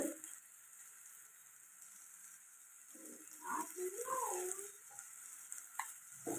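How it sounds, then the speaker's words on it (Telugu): Tomato puree with salt and turmeric fries in a pan for a dried-fish tomato curry, a faint, soft sizzle with gentle stirring scrapes that grow a little busier toward the end. "ఇలా ఫ్రై అవుతుంది కదండి టమాటా"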